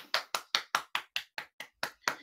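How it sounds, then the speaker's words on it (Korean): Ten crisp, evenly spaced claps in quick succession welcome a guest on a healing talk show, isolated and close with silence between each. "박수 부탁드릴게요"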